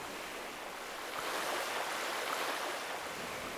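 Waves break onshore as wind pushes them in, a steady broadband wash that swells louder after the first second and rolls on continuously, with no voices.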